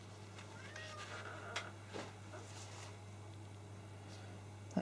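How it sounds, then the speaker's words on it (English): A cat meows outside a door, wanting to be let in, in a few faint, separate calls over a steady low hum, with no talk. "That cat is determined to get in, isn't he?"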